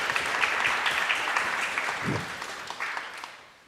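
Audience applause at an annual debate results ceremony, a steady dense clapping held for several seconds before tapering off at the end.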